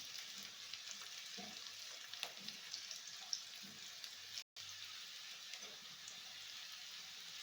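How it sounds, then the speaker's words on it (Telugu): Onion and garam masala heat in oil for a chicken curry, giving a faint, steady sizzling hiss with a few soft crackles. It runs through almost the whole stretch, with one brief dropout. "ఉల్లిగడ్డ గరం మసాలా అంతా ఈ ఆయిల్లో వేడి అవుతుంది"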